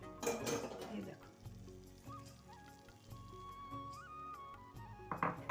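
Chana dal (split chickpeas) frying in oil, a soft crackling sizzle with bursts of stirring at the start and end, faint and close, with some tonal background music.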